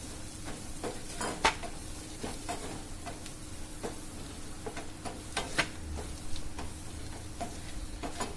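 Onion with asafoetida and chili powder sautéing in a pan, a low sizzle under repeated scraping and tapping of a spoon against the pan, with a few sharper clinks scattered through.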